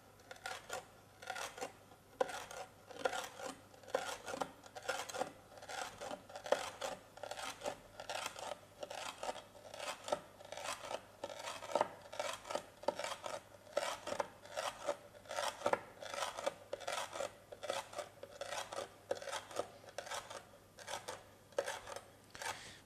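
Knife cutting practice before cutting food, a steady series of rapid, crisp slicing strokes repeating evenly and close up, with no voices.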